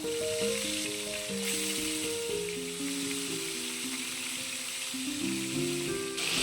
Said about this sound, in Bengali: আমি এবার মাছটা এক এক করে ভেজে নেব।